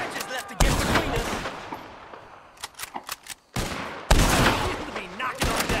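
Rapid bursts of gunfire from a shootout against the O'Driscolls in Red Dead Redemption 2, loud and close, arriving in dense volleys with short gaps, with voices shouting over parts of it.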